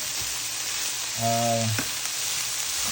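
Baby spinach wilts in a hot pan with a steady, close frying sizzle and faint stirring, with a brief hum of a voice partway through.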